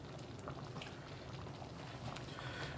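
Black beans simmering and reducing in a non-stick skillet give a steady, soft bubbling hiss with faint pops, continuous and close, with no talking.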